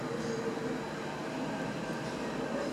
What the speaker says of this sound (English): The train is passing through